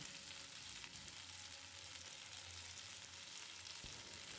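Crushed fried onions sizzling in a kadai while cooking spiced potatoes, a steady soft frying hiss with faint stirring, quiet and continuous.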